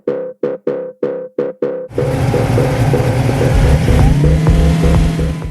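A 1965 Ford Mustang with a 408 stroker engine, being dyno tuned: five evenly spaced loud bursts, then the engine catches and runs loud and close, its revs rising toward the end.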